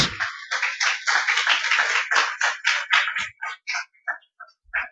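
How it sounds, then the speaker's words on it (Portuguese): A church congregation claps in a loose rhythm, sharp hand claps close and clear, dense at first and then thinning to scattered single claps before stopping. "Aplauda ao Senhor Jesus."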